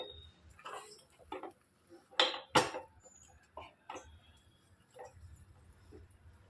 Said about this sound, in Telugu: ఇలా మొత్తం బాగా కలిపేసుకోవాలి. ఇలాంటి తెడ్డు అయితే అండి కలుపుకోవటానికి చాలా తేలిగ్గా ఉంటుంది.